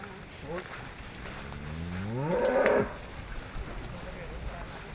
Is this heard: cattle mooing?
yes